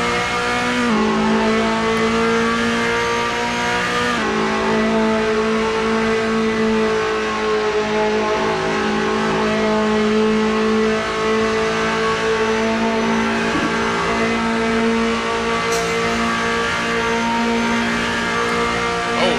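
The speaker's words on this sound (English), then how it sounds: "using some engine brake there as well" A race car in Gran Turismo at Spa engine braking, a loud, steady engine drone with a shifting whine that runs unbroken and close throughout, with a brief change in pitch partway through.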